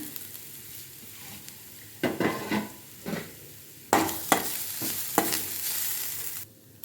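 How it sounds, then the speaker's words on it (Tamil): Grated coconut roasts in a pan with a little oil under a low, steady sizzle, broken by several sharp scraping bursts from stirring, with no talking. "இப்போ ஒரு பேனில் கொஞ்சமாக எண்ணெய் ஆட் பண்ணி கொஞ்சம் தேங்காவை வறுத்து எடுத்துக்கலாம்."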